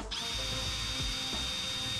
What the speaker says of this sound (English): we just need to drill in the corners so that we can get the saw in there